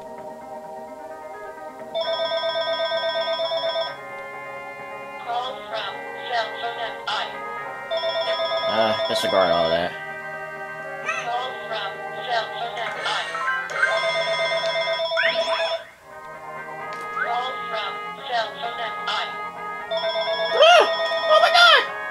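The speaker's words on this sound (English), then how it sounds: "The phone's ringing." Repeated electronic ringtone of a telephone in The Legend of Zelda: Four Swords Adventures, sounding in bursts with music and a voice talking over it.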